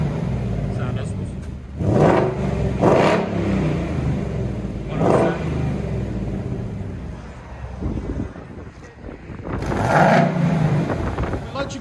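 A 2019 Jeep Wrangler fitted with a 5.0 V8, six-speed and factory catalytic converters, revving in several sharp bursts through its exhaust, each surge rising and falling between idle rumble, with someone talking over it.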